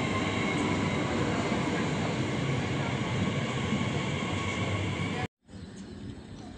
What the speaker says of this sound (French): train il arrive.